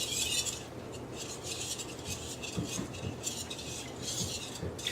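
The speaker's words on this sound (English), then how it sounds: "And then next, we mix it around." Sauce mixture for Asian chicken wings being stirred in a bowl, a steady scraping and clinking of utensil against the dish with soft rhythmic swishes, close and continuous for several seconds, no voices.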